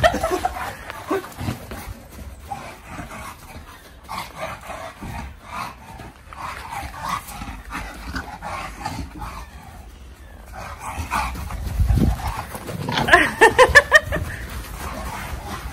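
English bulldogs bark and yip in short scattered bursts during play with a flirt pole, some close and some further off, over background rustling with no talking.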